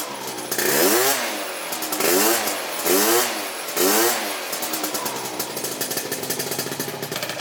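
Honda Elite AF16 scooter fitted with a smart carburetor and filter, its small two-stroke engine revving up and down in several loud rising-and-falling swells, then settling into a steady buzzing idle.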